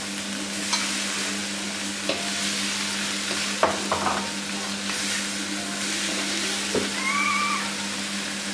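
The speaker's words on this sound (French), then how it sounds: "Une fois que j'ai fait revenir donc les oignons, les poivrons avec les oignons, je viens ajouter mes champignons." Onions, peppers and mushrooms cooking in a Monsieur Cuisine kitchen machine: a continuous soft sizzle and stirring with a steady motor hum beneath, occasional scraping knocks, and a short high whistle near the end.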